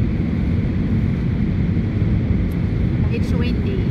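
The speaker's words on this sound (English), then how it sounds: "It's windy." Strong, continuous wind roar buffets the microphone on an aircraft's approach to land at Lisbon airport from the west, a dense low rumble filling the whole moment with no pause.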